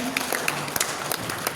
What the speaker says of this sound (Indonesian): Tepuk tangan untuk Bang Roy.